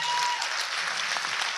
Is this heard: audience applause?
yes